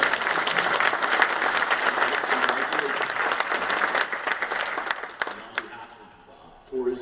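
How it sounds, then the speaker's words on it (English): A banquet crowd at an agriculture awards dinner applauds Mac and Beth with sustained, dense clapping for about six seconds before it thins out, and then a voice starts speaking. "we should give Mac and Beth a round of applause"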